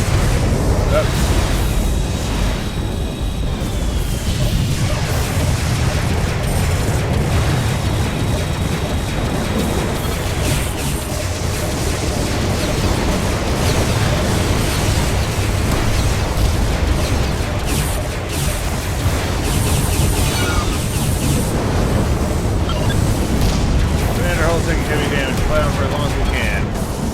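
Explosions tear through a data cruiser as it is destroyed in the space combat game Freespace 2, a loud, continuous rumble of blasts and booms layered over battle noise and radio chatter for the whole stretch.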